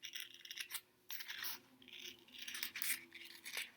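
Scissors cutting paper circles for a grade 2 bee craft, a quiet run of close rustling snips and paper scraping with brief pauses, no talking.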